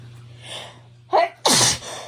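A single loud sneeze, preceded by a couple of sharp intakes of breath, close to the listener.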